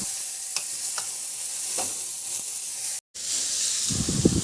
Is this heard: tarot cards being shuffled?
no